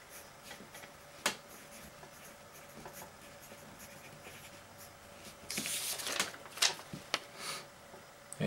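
Pencil scratches across notebook paper in short, faint strokes, quiet and close, with a few sharper taps and a brief denser burst of scribbling near the end.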